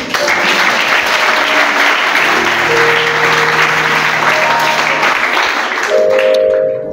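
A church congregation claps loudly and steadily for several seconds, a dense, continuous roar of many hands with faint tones ringing beneath.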